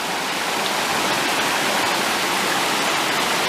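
A mountain creek flows steadily at the Rapidan River headwaters in Shenandoah National Park, a close, loud, continuous hiss of rushing water with no other sounds.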